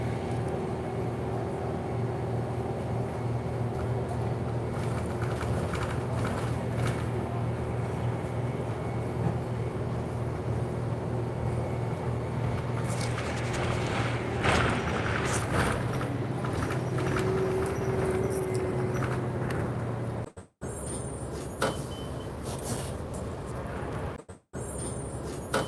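A Toronto TTC city bus engine droning and revving in low gear during a ride, a steady low mechanical hum with a rising rev midway, heard from inside the cabin with brief cutouts near the end.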